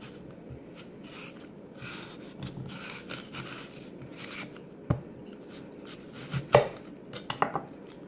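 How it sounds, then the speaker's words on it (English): A knife cuts an apple in half on a board with a series of quiet scraping strokes, followed by a few sharper knocks and clacks near the end. "I'm just going to cut it in half"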